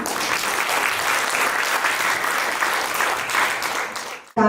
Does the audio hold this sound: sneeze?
no